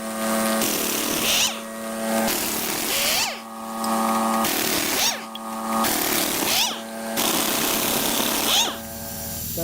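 A power impact tool removes the wheels from a vehicle at a yard, firing repeated loud whirring bursts of a second or so each, split by short pauses and overlapping in places.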